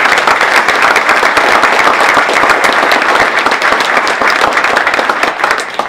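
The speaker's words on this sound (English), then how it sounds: "Now let's have a big round of applause for all of them." A large audience gives guests a big round of applause at a Good Morning Metro South morning event: loud, dense, continuous clapping that holds steady for about six seconds and tails off slightly at the end.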